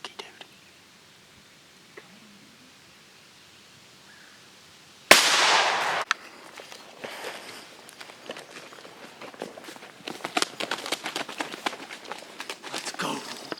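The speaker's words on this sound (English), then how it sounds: "Dad, shoot the turkey, dude." A single sharp shotgun blast is fired at a wild eastern turkey during an early-morning hunt. It rings out loud and close after quiet whispering and is followed by rustling footsteps and movement.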